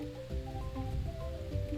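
Rainfall in the game Roots of Pacha, a constant gentle patter and drip texture running beneath soft melodic game music throughout the short stretch, with no voices.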